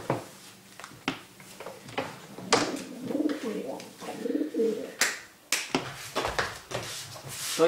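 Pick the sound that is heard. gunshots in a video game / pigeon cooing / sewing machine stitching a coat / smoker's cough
pigeon cooing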